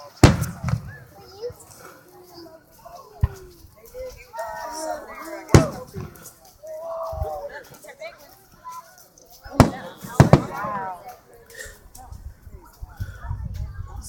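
Fireworks near an island shoreline with people out on boats: several sharp cracks and bangs burst at intervals, close and loud, between stretches of people talking and children's voices.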